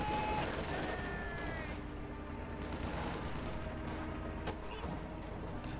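Machine guns rattle in a Company of Heroes 2 match as a Panther tank and Russian troops trade fire, a continuous dense crackle of gunfire and distant bangs, with battle noise throughout and no voice.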